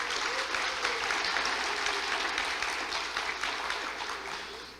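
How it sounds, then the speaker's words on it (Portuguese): Congregation applauding during a Messianic Jewish church service, steady close clapping from many hands that holds evenly for several seconds, then thins slightly at the end. "Pode aplaudir o Senhor"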